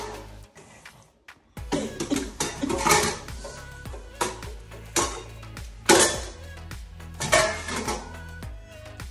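A child knocks kitchen dishes about, a bowl and pan tipping over: repeated clattering metal and ceramic clanks close by, loud sharp hits in irregular bursts with brief pauses between.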